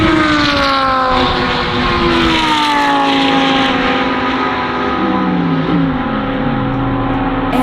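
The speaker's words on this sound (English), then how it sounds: "That sound, that revving, is the Super Trofeo Omologato, the STO" A Lamborghini Huracán STO's V10 engine revs high, roaring steadily and loudly, its pitch climbing and then easing back before rising again, with no voices.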